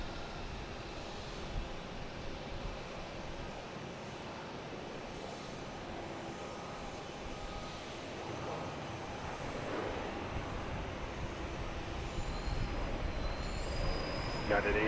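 A Southwest airliner arriving from Baltimore at Boston's Logan Airport makes a broad, distant engine roar that rumbles steadily, then slowly swells louder toward the end.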